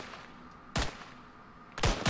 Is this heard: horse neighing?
no